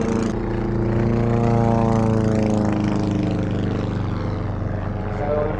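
A propeller aeroplane at an air show drones loudly overhead, its engine hum rising and shifting in pitch as it passes, continuous and near.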